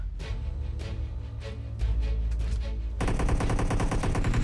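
Rapid bursts of automatic gunfire in PUBG Mobile rattle steadily, loud and continuous, with the firing growing denser and harsher toward the end.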